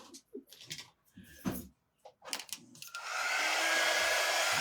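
A handheld dryer switches on to dry painted double-sided summer craft decor, a loud steady blowing whoosh that takes over the last part after a few light taps and handling sounds.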